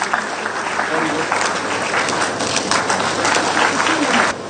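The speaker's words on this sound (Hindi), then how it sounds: "जोरदार तालियां बजा दीजिए आप सभी।" An indoor audience at a state government education signing event with HCL Tech claps in a sustained wave of applause that stays strong for several seconds before cutting off.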